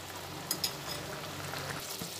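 Potato curry with ground sesame paste bubbling in a pan, a soft continuous simmer and sizzle with a couple of faint clicks near the start, steady and quiet with no talk.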